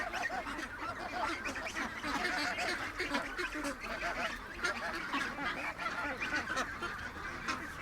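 A dense flock of ducks and geese, including silver-gray ducks, honk and quack continuously in an overlapping chorus, moderately near and steady throughout.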